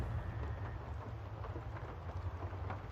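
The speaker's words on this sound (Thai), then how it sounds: "เสียงฝนมาใกล้ๆแล้ว" Steady rain in a horror video game hisses with a low rumbling bed beneath it, a constant wash of noise with no voices.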